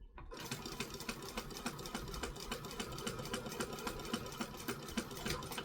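Sewing machine running steadily while stitching and back stitching a seam, a continuous close rapid mechanical whir with fine rhythmic ticking that starts abruptly and carries through to the end, no voices.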